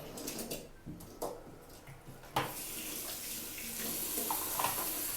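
Water runs steadily from a tap to rinse off powder, with a continuous splashing hiss and a few brief bursts, fairly close and without speech.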